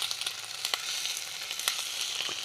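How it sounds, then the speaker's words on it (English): Cheese sizzles and steams in a non-stick pan, a steady close hiss dotted with sharp crackles and pops throughout, with no voices. "Oh, she's a sizzling and a steaming."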